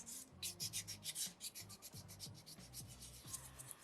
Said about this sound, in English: really try and be as effective as possible when I'm sanding with sandpaper number 2.